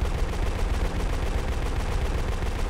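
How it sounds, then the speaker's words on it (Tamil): Rapid, continuous pistol fire in the video game Project IGI, shots rattling off in a fast machine-gun-like stream, loud and close with no pauses throughout. "பிஸ்தலே மிஷின் கன் ரேஞ்சு ஃபயர் பண்ணிடுது"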